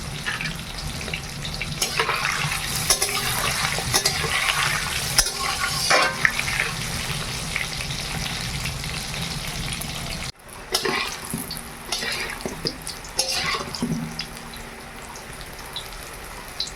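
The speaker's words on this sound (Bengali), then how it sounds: "আলুগুলো লাল লাল করে ভেজে নিয়েছি।" Boiled, salted potatoes fry with a little turmeric in a pan in a village kitchen, giving a loud, continuous sizzle with occasional stirring scrapes and a brief break partway through.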